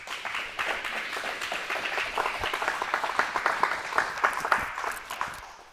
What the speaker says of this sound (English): give Dr. Nick a round of applause.